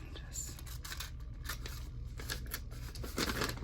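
Scissors snip through paper while a pocket is cut for a Christmas journal, a series of close, quiet crisp cuts with soft paper rustling in between.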